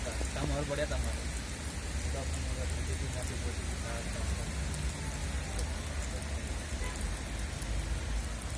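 Heavy rain in the UAE pours steadily, a dense continuous hiss of drops on surfaces throughout, with faint voices underneath.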